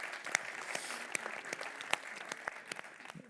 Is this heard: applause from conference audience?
yes